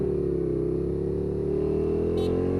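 A Suzuki SFV650 Gladius V-twin motorcycle exhaust holds a steady, loud, close revving drone with rising pitch, alone and continuous.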